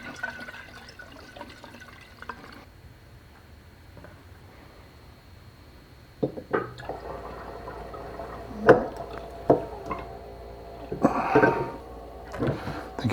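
Yeast starter liquid poured into cooled wort: quiet at first, then a series of splashy glugs and drips that grow louder near the end.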